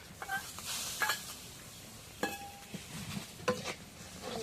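Ground cumin and garlic paste go into a hot pan for a bottle gourd and fish dish, giving a moderate sizzle and stirring with scattered scrapes and clinks of utensils and no voices.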